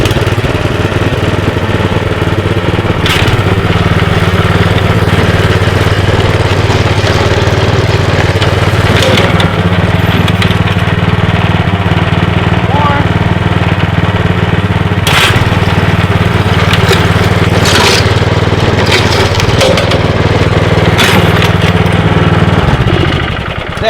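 An engine-powered lawn dethatcher runs across a lawn, pulling up thatch. Its small engine gives a loud, close, steady drone for the whole stretch, with occasional scraping bursts and slight shifts in load.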